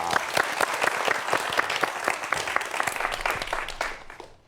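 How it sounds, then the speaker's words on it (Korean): Audience applause welcoming a criminology professor's lecture on forensic science and profiling, a full, steady round of clapping that holds even and then fades away at the end. "박수로 청해 듣겠습니다"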